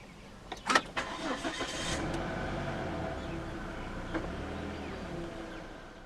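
A 2011 Volvo S80 2.5T turbo starts by push button: a sharp cranking burst catches, then the engine settles into a steady, moderately loud idle, heard from nearby with no voices.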